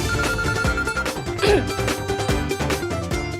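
Phone ringtone with an incoming call plays continuously and loudly, a melodic tune with a repeating rhythmic pattern and no talk.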